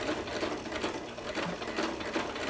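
A sewing machine runs steadily through a thick seam on a Christmas stocking, giving a continuous rapid mechanical whir of stitching, close and fairly loud, with no talk.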